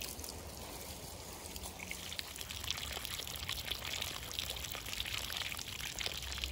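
Healing spring water at God's Acre Healing Springs in Blackville, South Carolina pours into cups with a faint, continuous trickling splash that runs steadily throughout.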